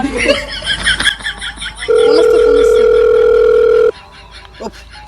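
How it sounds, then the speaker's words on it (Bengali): A telephone gives a steady, loud electronic tone for about two seconds, following a stretch of laughter and talking voices, then falls quiet before a brief murmur. "ফোন করছে ফোন করছে"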